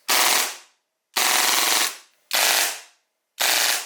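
A short-stroked airsoft pistol fires rapid full-auto bursts: four loud, close strings of shots separated by brief pauses.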